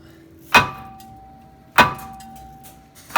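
A hammer strikes the seized brake rotor of a 2010 Hyundai Sonata three times at a slow, uneven pace, each loud metallic clang ringing briefly before fading.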